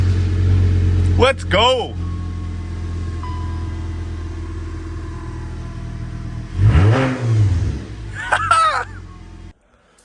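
A VW 2.5 five-cylinder engine, swapped into an MK4 Jetta, cranks and catches, then revs up in a couple of rising bursts, with a voice speaking briefly between the revs.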